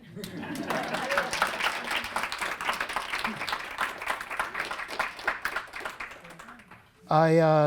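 Audience at a lecture at the School of Visual Arts in NYC breaks into clapping that swells quickly and continues irregularly, with scattered individual claps. It fades before a brief burst of a different loud sound at the end.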